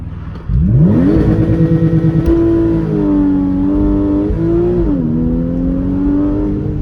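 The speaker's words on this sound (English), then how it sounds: "stamp down on the accelerator, let the revs build, and then go for it" A Porsche Cayman 981 S launching under launch control: engine note jumps up loudly, then climbs steadily through the revs with a brief dip around a gear change before pulling hard again, close and continuous.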